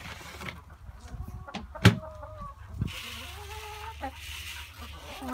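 Backyard chickens cluck and squawk close by in a few scattered calls, one sharp loud squawk standing out among softer clucks over quiet outdoor background.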